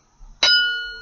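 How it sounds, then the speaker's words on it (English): A metal object is struck once, giving a sharp clang that rings into a clear, bright bell tone, loud and close, slowly decaying. "It's the bell tone."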